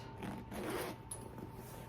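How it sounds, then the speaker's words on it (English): A handbag's zipper is drawn open in one steady, close pull, a continuous ratcheting buzz lasting about two seconds, with no talking over it. "You're gonna unzip that."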